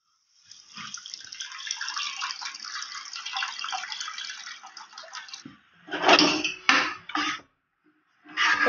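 Dissolved tamarind water pours into a pot of tomato rasam, a steady close splashing stream lasting several seconds, followed by a few shorter splashy pours.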